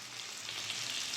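Potato pieces fry with a pinch of turmeric in mustard oil in a wok, a soft, even sizzle heard close and alone.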